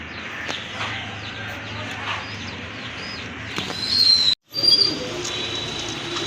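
Pigeons kept for sale give soft coos and scattered chirps over a low background murmur, with a brief sharp drop to silence partway through.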